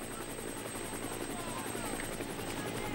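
A helicopter filming a professional cycling race, the 2005 Tour of Spain: a loud, steady rotor and engine drone that fills the whole stretch with an unbroken, even roar.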